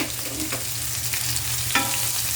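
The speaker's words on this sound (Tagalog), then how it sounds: "Ating palalambutin ang sibuyas bago natin ilagay si hipon." Onions soften in a hot pan ahead of shrimp, giving a steady close sizzle with occasional stirring scrapes, no voices.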